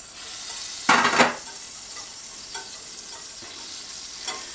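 Butter in a pan over low heat, stirred with a utensil: a faint steady sizzle under one louder scraping burst near the start and a few light clinks of metal against the pan later.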